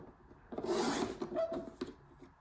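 A blade slices through a sheet of 12x12 scrapbook paper in one brief raspy stroke lasting about a second, close and quiet, followed by light rubbing and shuffling of the paper.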